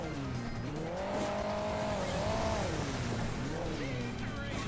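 Motorbike engine from the Hill Climb Racing 2 video game, a continuous buzzing whine that rises and falls in pitch as the bike drives, steady and loud with no talking over it.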